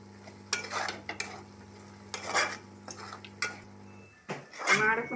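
Spice masala of chili powder fries on low flame, with a low sizzle under a steady hum. Repeated spoon scrapes and clinks against the pan come in bursts, ending in a louder stir.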